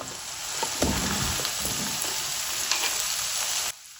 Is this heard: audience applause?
no